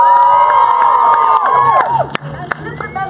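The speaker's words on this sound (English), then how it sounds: "Give yourself a round of fucking applause." Student protest crowd cheering and whooping loudly, many voices shouting together with scattered clapping beneath, the roar fading toward the end as a few sharp claps and calls remain.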